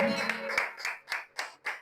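Church congregation clapping in praise during a prayer service, a few loud bursts of applause rising and fading at close range, with a voice speaking over the start.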